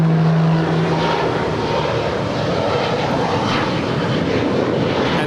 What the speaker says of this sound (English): That is Aeromexico Flight 644 coming in from Mexico City. That is a 787-8 Dreamliner.